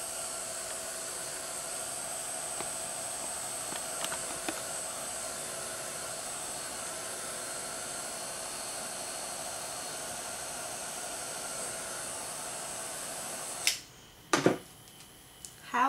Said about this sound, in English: I'm going to heat set this again.